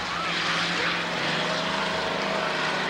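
A modified stock car engine at Kirksville Raceway roars steadily in a continuous, loud drone, with a sustained rumbling hum and no break in the noise.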